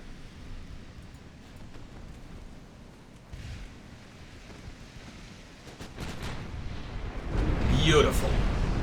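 Naval gunfire from battleship guns firing armor-piercing rounds during a sea battle in the video game Ultimate Admiral Dreadnoughts, a low rumbling boom building toward the end over steady background noise.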